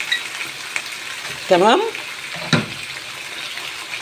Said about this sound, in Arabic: هحط له شقشاق ميه بسيط